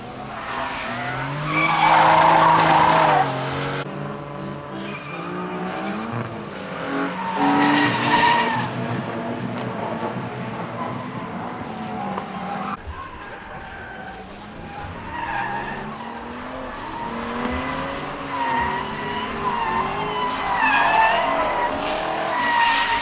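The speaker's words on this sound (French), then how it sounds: "les pilotes font rager leurs engins pour essayer de faire la plus belle dérive sans se sortir" Tuned cars drift through a bend at a GTI tuning event, engines revving hard as tires squeal and skid in long sweeping bursts, loud and close, with no talk.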